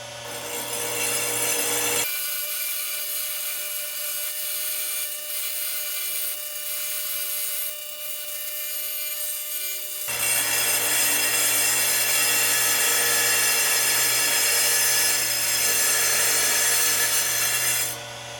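A rock saw cuts open a hollow geode, a loud continuous grinding whine with motor drone that drops to a thinner buzz midway, then returns to a full grinding roar, close and steady.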